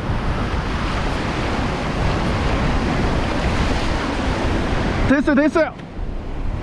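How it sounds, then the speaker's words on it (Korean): Ocean waves break and wash steadily onto a rocky shore in a loud, continuous surge, with a brief burst of excited voices near the end as the water rushes in. "그래서 파도가 오면"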